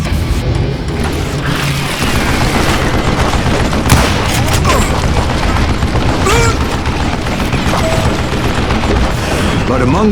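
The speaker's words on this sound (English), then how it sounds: "a fusillade of bullets come raining down from on high" A loud, continuous volley of gunfire rains down from above in the Western shooter game Call of Juarez: Gunslinger, with booming shots and crackling bursts overlapping for the full stretch.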